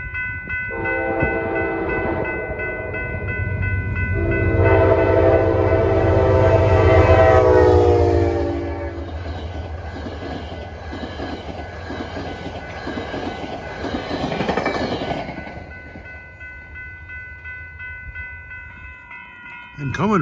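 Metro North commuter train 841, running Grand Central to Poughkeepsie along the Hudson River, sounds its horn in long sustained blasts, then rumbles and clatters past nearby before fading, with a brief voice heard near the start.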